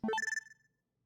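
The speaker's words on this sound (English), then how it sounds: "heard a sound from her cell phone that she had never heard before" A short electronic alert chime from a cell phone in the Steins;Gate 0 video game announces an incoming video message: a quick rising run of bright tones ending in a brief ringing trill that fades out within a second, clean and alone.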